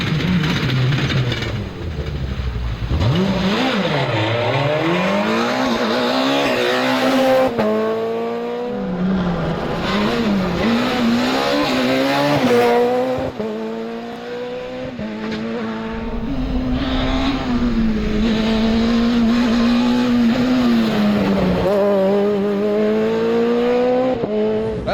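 A Peugeot 207 rally car races through a Champagne-region rally stage near Epernay, its engine revving hard and rising and falling through gear changes, loud and close throughout with tire noise and no talk.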